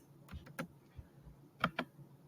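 Notes typed on a computer keyboard: a handful of faint, scattered key taps in a quiet room, soft and irregular with short pauses between them.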